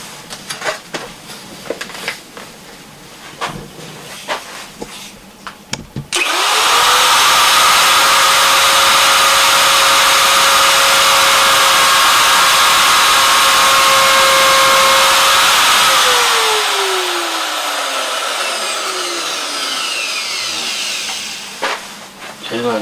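Router cutting into a woodturning piece, a loud steady whine with a sustained pitch that holds for about ten seconds, then winds down as the motor spins to a stop.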